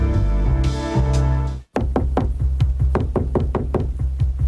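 Firm knocks on a door in a 1995 TV commercial for Investors Business Daily, a steady series of about a dozen evenly spaced, punchy raps, loud and close over a sustained musical tone.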